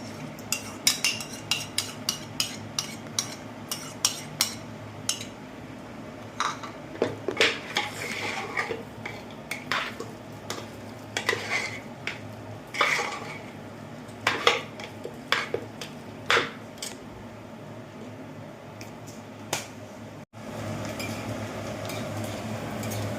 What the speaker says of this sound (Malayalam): ഇതാ നമുക്ക് തൈരിട്ട് ഇളക്കാം.